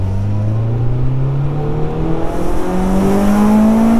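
A Honda Integra Type R engine revs hard under acceleration, its loud, close engine note climbing steadily in pitch over a few seconds with a raspy edge.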